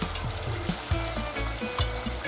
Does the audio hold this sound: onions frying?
yes